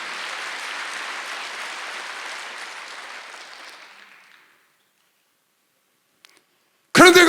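A church congregation at a Wednesday service claps in a sustained wash of applause that slowly fades to silence, followed by a brief click and then a preacher's voice resuming.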